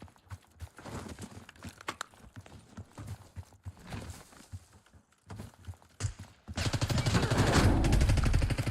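Enemy footsteps running in Call of Duty Warzone on Rebirth Island, rapid irregular steps with scattered gunfire cracks, ending in a louder dense burst of noise over the last couple of seconds.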